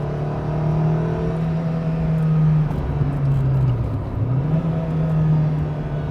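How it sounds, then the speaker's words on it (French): Renault Clio 16V engine heard from the cabin as it downshifts: a steady engine drone that dips briefly in pitch and climbs back, with short revving swells, close and continuous, no talking. "Ah là là, ces rétrogradages, qu'est-ce qu'ils font plaisir."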